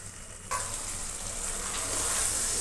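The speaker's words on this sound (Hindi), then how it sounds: "और इसे इतना भूनेंगे ताकि दही अपना सारा पानी रिलीज कर दे" Chicken frying with yogurt on a high flame sizzles loudly and steadily, the crackling hiss jumping in suddenly after a brief quiet moment and staying dense throughout.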